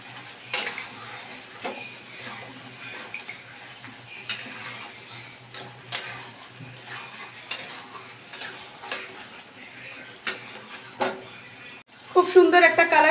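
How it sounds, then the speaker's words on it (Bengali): A spoon stirs chicken kosha in a frying pan, giving repeated scraping and clinking strokes over a soft sizzle, with a louder clatter of pot and utensil near the end. "এবার কিন্তু ভালো করে আমি মিশিয়ে নিচ্ছি"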